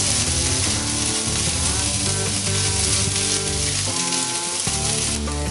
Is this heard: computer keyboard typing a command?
no